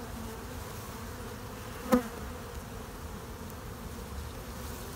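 A steady, continuous hum of many honey bees buzzing close by at a hive in Biloxi, Mississippi, with one brief louder buzz passing near the middle.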